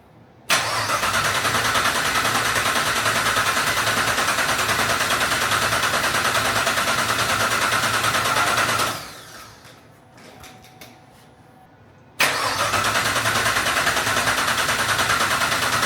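A Chevrolet SS V8 fires up after a cam install and settles into a loud, steady idle, cuts off for a few seconds, then restarts abruptly and idles again close by; no talking.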